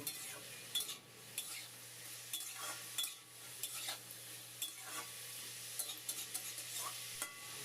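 Fried beetroot is stirred with salt and turmeric in a pan, giving a quiet, soft sizzle under repeated scraping strokes of a spoon at an uneven pace, close by with no voices.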